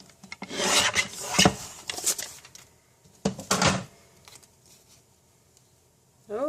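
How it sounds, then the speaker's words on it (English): Paper being trimmed on a paper trimmer in a card-making session, giving several short raspy cutting and sliding bursts close up, separated by brief pauses, with a soft knock at the end. "we're going to trim that off"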